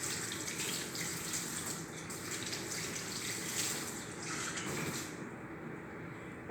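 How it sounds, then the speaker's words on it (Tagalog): Water pours steadily into a cooking pot of paksiw, a continuous splashing rush close by that lasts several seconds before easing slightly. "Lagyan ko na lang siya ng kunting tubig para"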